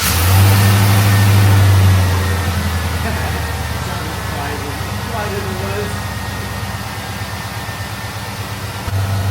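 A truck engine with freshly installed long tube headers revs loudly at close range, opening with a strong low surge in the first two seconds, then settling into a steady rumbling idle that runs to the end.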